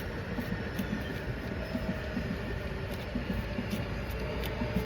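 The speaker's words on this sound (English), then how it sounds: "Ooh, train going by." A low, steady rumble of a train rolling past, continuous and fairly loud throughout, with rhythmic clatter from the wheels.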